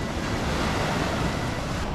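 Sea waves wash onto a beach in a steady, loud, close rush of surf with wind noise over the microphone, and no talking.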